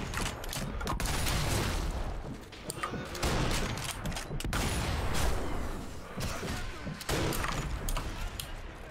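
Gunfire in the video game Sniper Elite V2 Remastered, rapid bursts of shots and mechanical clatter in a busy, dense stretch of combat audio.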